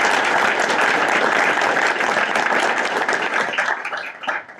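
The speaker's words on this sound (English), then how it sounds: "Let's give them a round of applause" An audience at a Duluth school board meeting applauds three student scholars, a loud, dense burst of clapping that holds steady and then thins out into a few last claps.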